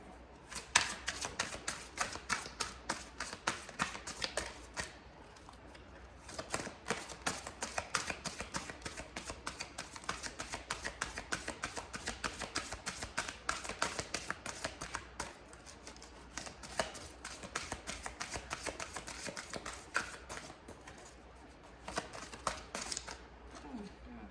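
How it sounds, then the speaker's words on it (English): Rapid riffling and snapping of playing cards being shuffled over and over, close up, in repeated bursts with brief pauses. "I'm going to shuffle one more time."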